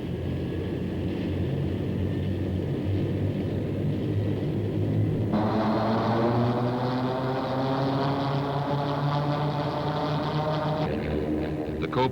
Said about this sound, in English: With the crew on board, the engine is started.